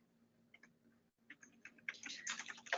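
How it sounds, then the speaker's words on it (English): Faint, close typing on a computer keyboard: a few scattered keystrokes, then a brief pause, then a denser run of rapid clicks that grows busier toward the end, with no talking. "I'll just type something out."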